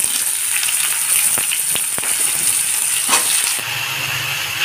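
Bitter gourd and potato fry over a low flame in a pan with panch phoron, giving a steady, close hissing sizzle with a few soft stirring ticks.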